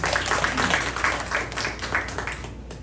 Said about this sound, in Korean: 박수 한번 보내주십니다